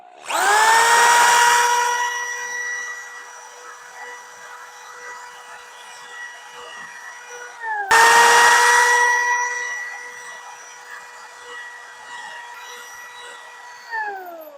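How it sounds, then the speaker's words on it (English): Two long bursts of a hammer drill with a masonry bit grinding into concrete block, each a loud whining roar that settles into a steady drone, with a brief pause between them. "I have my masonry bit in my hammer drill"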